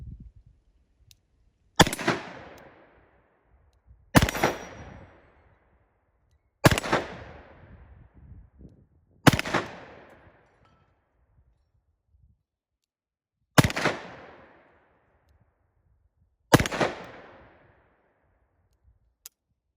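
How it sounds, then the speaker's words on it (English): Six double-action shots from a Colt Python revolver ring out one at a time at an outdoor range, each a sharp loud crack with a ringing tail, spaced a few seconds apart with no talking in between. "There's all 6 shots."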